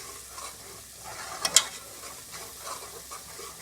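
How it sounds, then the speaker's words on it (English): Red snapper fish curry fries in a pot, Guyanese style, with a steady soft sizzle while a spoon stirs it, giving a couple of sharper scraping clicks midway, close and fairly quiet. "I'm going to let this fry. And I have to keep stirring it"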